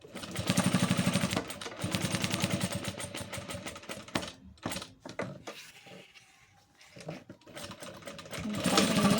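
Sewing machine stitching slowly along a zipper for a tote or holder, its rapid needle rhythm starting loud and steady, pausing and stuttering midway, then resuming and ending with reverse backstitching to secure the seam.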